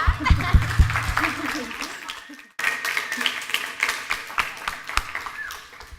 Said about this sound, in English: Can we applaud you?